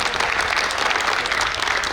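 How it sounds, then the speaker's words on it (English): Steady, dense applause fills the hall for a community leader, a full crowd clapping loud and continuous for two seconds. "So I would like everyone to give a big round of applause to a leader like this for our community."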